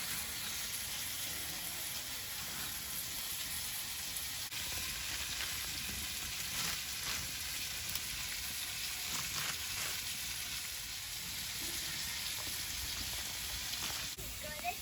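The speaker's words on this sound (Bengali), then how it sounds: "কচুটা ভাজা হয়েছে" Taro fries in a pan with a continuous, even sizzle and crackle throughout, moderately close with faint stirring and no talk.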